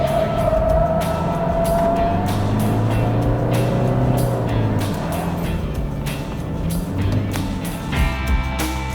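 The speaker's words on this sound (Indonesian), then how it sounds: "Dan teman-teman sekarang kita cobain dulu Fortuner di aspal." Toyota Fortuner 2.8 4x4 SUV driving on asphalt, its steady engine hum and road noise heard from the cabin, loud and continuous with occasional thumps.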